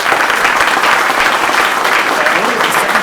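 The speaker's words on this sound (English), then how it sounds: "a round of applause, Alex." Loud, steady applause from the crowd at an Army retirement ceremony at Fort Riley, with dense continuous clapping throughout.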